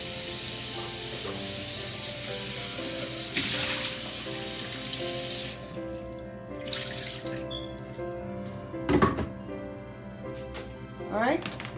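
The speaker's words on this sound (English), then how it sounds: "I'm going to give this blender a little wash again." Water runs from a tap into a sink with a steady rush, then stops, followed by splashing, clinks and rinsing sounds of a blender being washed while someone talks.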